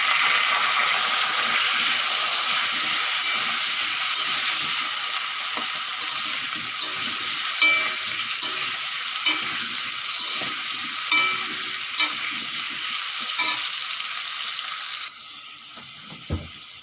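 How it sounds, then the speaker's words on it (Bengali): Potatoes fry in a pan of hot oil, a loud steady sizzle with scattered spoon scrapes and taps, dropping quieter near the end as the heat changes. "আলুগুলো ভাজা হয়ে গেছে এখন তুলে নেবো"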